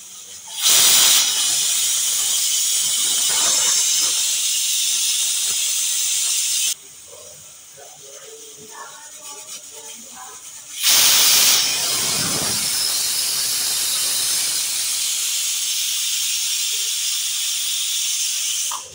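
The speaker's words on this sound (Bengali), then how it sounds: "আমি প্রায় 15 মিনিট পর এসে দেখলাম হালকা হালকা সিটি আসছে" Pressure cooker on a gas stove letting off loud hissing steam in long sustained bursts while cooking chicken, with a quieter pause in the middle before the whistle surges again.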